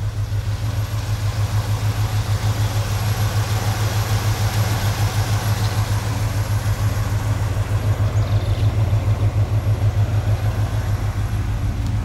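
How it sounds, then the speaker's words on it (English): 1970 Chevelle SS with a 454 LS5 V8 idling steadily and close, a deep even pulsing rumble that holds with no revving or talk. "I was told it was an LS5, but I don't know. 454 LS5 engine."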